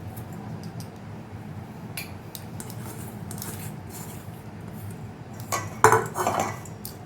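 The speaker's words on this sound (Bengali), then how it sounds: "তো এখানে দেখে নিন চিড়েটা আছে আর এখানে সুজি। এবার এই দুটো মিক্স করে নেব।" Flattened rice and semolina stirred together in a bowl, giving a soft, steady scraping and rustling with a few brief utensil clinks near the end, close and fairly quiet.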